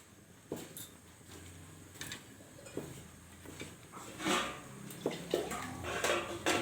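Pakora batter being mixed by hand with turmeric, giving wet squelching and soft clinks against a bowl in irregular bursts, close and fairly quiet with no talk.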